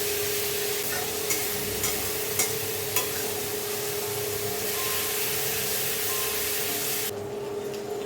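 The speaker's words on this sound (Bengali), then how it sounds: "তো আমার পেঁয়াজ আর কিশমিশ বাটাটা ভালো মতো ভাজা হয়ে গেছে" Onion and raisin paste sizzles steadily in a pan, a continuous close hiss with a few faint stirring clicks, and it quiets slightly near the end.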